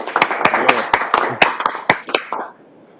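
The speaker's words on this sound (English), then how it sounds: "council should give them a little bit of encouraging applause at this point" A small group at a council meeting gives a brief round of applause, about a dozen sharp, scattered claps at close range that fade out after a couple of seconds.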